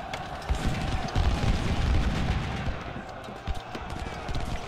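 Civil War rifle volleys in Ultimate General: Civil War rumble as dense, continuous distant gunfire with scattered booming reports, steady and moderately loud throughout.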